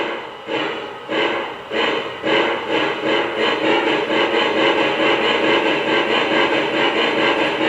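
A Lionel Legacy AT&SF 4-8-4 Northern model steam locomotive runs with rhythmic chuffs that start spaced and quicken into a rapid, continuous beat, loud and near, with no voices.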